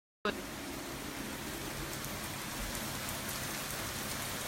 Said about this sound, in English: Let me see if I can show you a close-up of the rain.